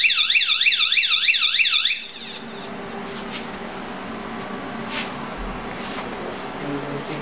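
A home automation power line control module sounds a loud, close electronic alarm with a rapidly warbling, siren-like pitch sweep that stops abruptly after about two seconds, leaving low electrical hum and faint clicks.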